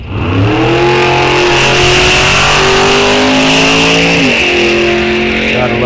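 A Chevy II drag race car launches and screams down the strip at a test-and-tune session, its loud engine rising in pitch through a gear change and then winding up again, close and overwhelming.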